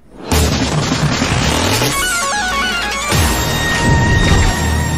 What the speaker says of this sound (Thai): โอ้โหยิงปืนใหญ่ได้ด้วยอ่ะ